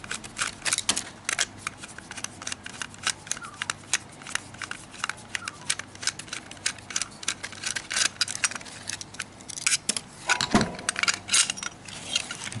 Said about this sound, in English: so I'm just removing the two side screws